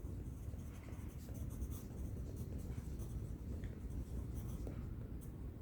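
Pencil cross hatching on paper, a steady continuous scratchy scraping of graphite strokes overlapping in several directions, close and even in loudness throughout, with no voice.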